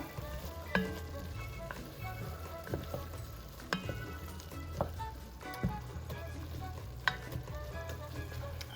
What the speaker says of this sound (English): Next, we're going to add 2 tablespoons of garlic. And this was a minced garlic.